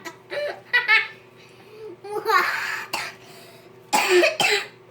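A few short, throaty coughs come in bursts, mixed with small babbling and giggly vocal sounds from a young child nearby.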